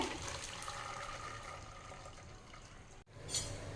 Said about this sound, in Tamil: இப்போ நம்ம வந்து இந்த தண்ணியை வந்து நல்லா வடிகட்டி எடுத்துக்கலாங்க